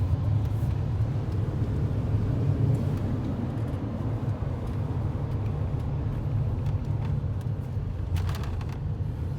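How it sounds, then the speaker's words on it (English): A car engine runs steadily with the overdrive switched off, a continuous low rumble and hum heard from inside the vehicle, with a brief lift around a downshift and no talking over it. "Turn the overdrive off. Feel a downshift there."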